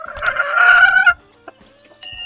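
A hen clucks loudly and close in a quick burst of calls, followed by a short pause and another brief squawk.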